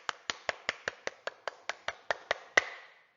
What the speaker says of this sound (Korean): 그래서 우리 모두에게 다 같이 박수!